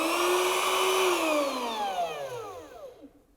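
A cordless router winds down after being switched off, its high whine sliding steadily lower in pitch and fading over about three seconds until it stops.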